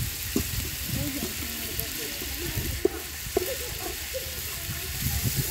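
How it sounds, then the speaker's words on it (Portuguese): Pasta sautéing in a pan outdoors at the edge of the woods, giving a steady low sizzle and frying hiss with stirring clatter, heard under nearby conversation. "agora vamos fazer uma refoga aqui nesse macarrão, na beira do mato"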